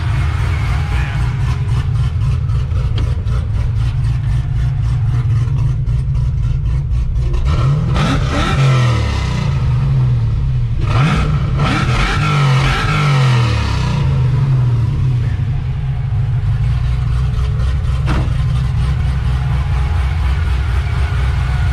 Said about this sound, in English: I bet it revs cleaner now.